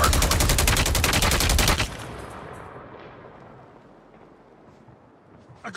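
Rapid burst of automatic gunfire in a Call of Duty multiplayer match on the Nuketown map, loud and dense for about two seconds, then cutting off and fading into a quieter echoing tail.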